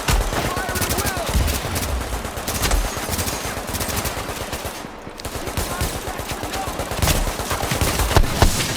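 Sustained automatic gunfire and rapid shots from the video game The Division, dense and loud throughout the whole stretch, with voices faintly mixed in under the shooting.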